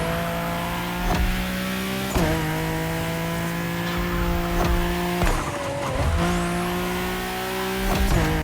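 Turbocharged JDM V6 in a racing video game, revving repeatedly with sharp rising pitch sweeps and drops between gear shifts, loud and close, with a faint tire squeal.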